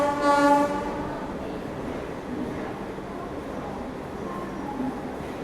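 A train on a scenic Odisha rail route sounds a loud horn blast at the start, then the low rumble of rolling rail cars carries on beneath the faint murmur of voices nearby.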